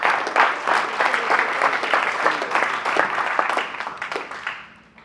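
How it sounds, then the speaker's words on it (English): A modest audience at a leadership and mental performance talk at a sports academy gives a short round of applause, distinct claps ringing out fairly close, then tapering off toward the end. "Round of applause for this."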